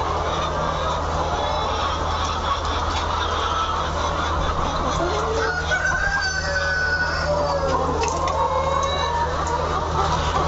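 Layer hens on a poultry farm make a constant dense chorus of clucking and calls, with a steady low fan or machinery hum underneath and no talking.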